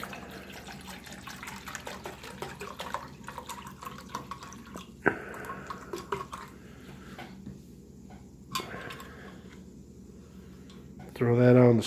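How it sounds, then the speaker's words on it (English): Water poured into a metal canteen cup for heating a field ration, a soft steady trickle with faint drips and occasional clinks, fairly quiet and low in level. "So let's go ahead and add some water."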